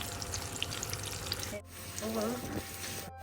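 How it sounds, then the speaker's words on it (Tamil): A tempering of spices sizzles in a spoonful of ghee with oil in a pan during cooking of bottle gourd and chana dal rice, a steady crackle with a brief stir and a soft burst of frying near the end. "தாளிச்சாச்சு. தாளிச்சதை கொட்டிக்கலாமா?"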